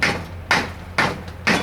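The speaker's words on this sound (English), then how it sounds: "take a rubber hammer" A rubber hammer knocks on the transmission flange of a VW Thing during a teardown: four loud, evenly spaced thuds, each about half a second apart, with no talking.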